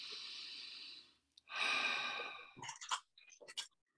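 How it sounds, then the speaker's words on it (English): Deep connected breaths taken during a guided breathing exercise on a conference call: a long audible exhale, a pause, then another long breath followed by a few shorter, choppy breathing sounds, close and fairly quiet. "Just do 3 or 4 deep connected breaths."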